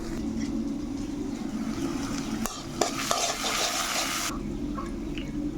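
A whole onion frying in a pan while being stirred, a close hissing sizzle broken by several spatula knocks and scrapes, with a brief louder surge of hiss partway through; no talking.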